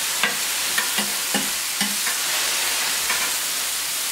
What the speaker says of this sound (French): Ils vont finir de cuire dans le fond de la plancha